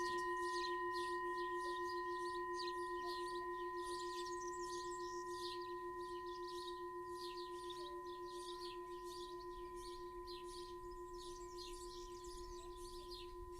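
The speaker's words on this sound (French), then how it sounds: "Écoutez le chant des oiseaux." Birds singing outdoors, faint scattered chirps and trills over a steady electronic hum with sustained tones, no voices.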